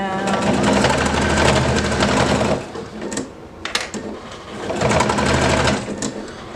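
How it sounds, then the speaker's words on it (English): A heavy-duty sewing machine fitted with a denim needle stitches through many thick denim layers in two loud, close bursts, with a short pause of soft clicks between them. "I'm still sewing with my heavy duty needle as well, my denim needle, just because this project has so many layers"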